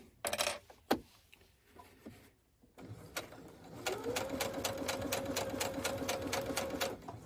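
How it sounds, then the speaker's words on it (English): A sewing machine stitches homemade bias tape in a steady, rapid run that settles into a continuous hum after a few clicks and a brief pause, close and fairly quiet. "And then we just go ahead and start with our sewing."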